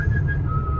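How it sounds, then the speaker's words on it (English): A driver whistles Beethoven's Fifth inside a Subaru on ice and snow, a single clear sustained whistled tone over a low road and engine rumble, close and fairly loud. "that sound is our confident driver whistling Beethoven's Fifth"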